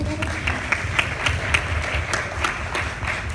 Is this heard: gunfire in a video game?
no